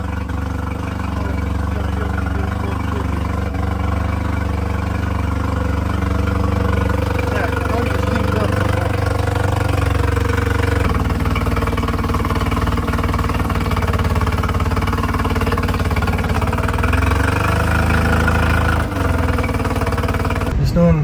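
A sailboat's engine runs steadily during final checks before a Pacific crossing from the Galapagos, a low continuous rumble with a constant drone throughout, and a voice speaks intermittently over it.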